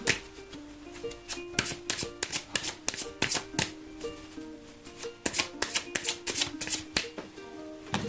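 Tarot cards are shuffled, giving a quick run of crisp riffling and slapping bursts in an uneven rhythm, close and moderately loud with no speech.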